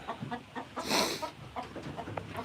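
A black Australorp hen with frostbitten comb tips clucks in a series of short, close, soft calls, with a louder breathy rustle partway through.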